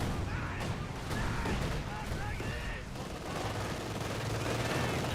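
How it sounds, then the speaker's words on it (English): Infantry gunfire in a Company of Heroes 2 battle: steady, dense rifle and small-arms fire crackling without pause through the whole stretch, with a voice faintly mixed in. "Taking infantry fire."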